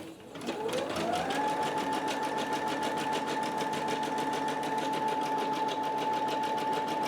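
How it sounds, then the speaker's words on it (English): A home embroidery machine stitches steadily, its motor whirring up to speed within the first second, then holding a loud, even, rapid needle rhythm throughout with no talking. "now we continue with the embroidery"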